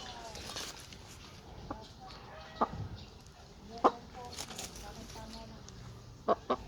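A Rhode Island Red chicken clucks in a few short, sharp bursts against quiet outdoor background, with a low voice murmuring faintly in between.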